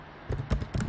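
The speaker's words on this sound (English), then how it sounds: "sorry for my typing, it's a bit all over the place." Computer keyboard typing, three quick clusters of soft clattering keystrokes close to the microphone over a faint hum, with no talk.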